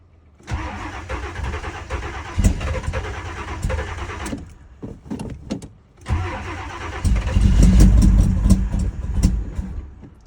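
A 1984 Monte Carlo SS engine cranks in uneven bursts, falters briefly, then catches and runs with a loud, rough rumble that swells toward the end.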